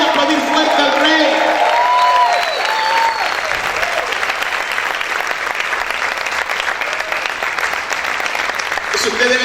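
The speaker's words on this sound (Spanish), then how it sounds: "Vamos a gritar y aplaudir fuerte al Rey." A church congregation claps and shouts loudly throughout, a dense, steady wall of applause with cheering voices rising above it and a few whoops near the start.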